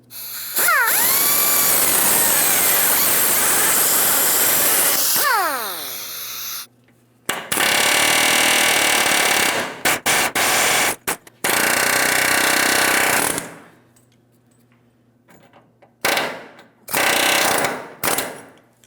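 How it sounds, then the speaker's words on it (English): Power tool hammering out the four frame rivets on a 2007-2014 GMC Sierra 2500 HD truck frame, loud and close in several long bursts separated by short pauses, with no talking. "we're going to make our way to the outside of the frame so we can remove all four of our rivets holding this in place"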